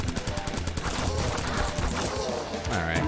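Guns blaze in the top-down shooter Crimsonland with a regular gun, fired in dense, rapid bursts that crackle steadily over a busy game soundtrack for the whole stretch.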